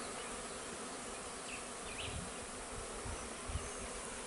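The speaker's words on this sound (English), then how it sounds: "They think the queen bee might be up there on this tree." Steady, dense buzzing of many bees swarming around a tree in Jamaica, a continuous close hum with no voices.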